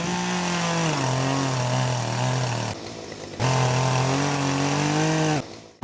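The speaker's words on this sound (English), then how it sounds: "For the chainsaw, I did a recording outside in a barn." A chainsaw recorded in a barn runs loudly and close with a steady engine drone, its pitch dipping slightly, cutting off briefly near the three-second mark and then revving back up before stopping abruptly.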